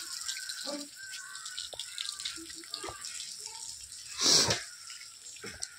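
Very cold water runs steadily from a tap, first carrying dirt as it washes through, a continuous bright hiss with a few small drips and knocks and one louder gush near the end.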